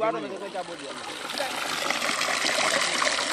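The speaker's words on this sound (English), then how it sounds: "This is the first and only water tap in the village." Water runs from a solar-powered village tap in Gambia, a close trickling splash that grows fuller and steadier, with a voice talking over it.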